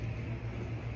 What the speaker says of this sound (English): you can probably hear my dishwasher running in the background